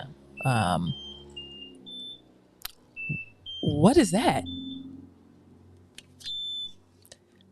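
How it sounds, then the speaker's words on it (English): Several short electronic beeps at different pitches sound sporadically, with a person briefly speaking in the middle. "I've never heard that beep before."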